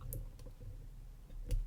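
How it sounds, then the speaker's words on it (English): A lock pick clicking a pin inside a brass Godrej ERY246 padlock, a few tiny, sharp, close clicks scattered over a quiet background, with one slightly firmer click near the end. "little click on 1"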